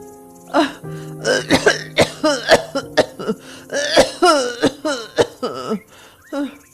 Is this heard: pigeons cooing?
no